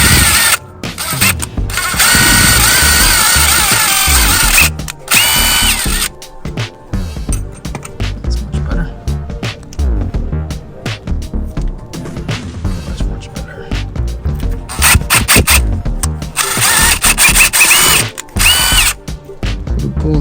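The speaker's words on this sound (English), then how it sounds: "I'm gonna drill out this hole." A power drill whirs loudly and steadily, revving and pausing in short bursts with ratcheting mechanical clicks, close up and with no talking.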